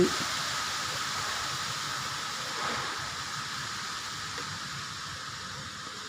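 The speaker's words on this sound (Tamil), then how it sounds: "புயல் மழை அடிக்குது சென்னையில்" Storm rain in Chennai, Vadapalani, during a cyclone, a steady dense hiss of heavy rainfall and wind outdoors with constant broadband noise and no clear breaks.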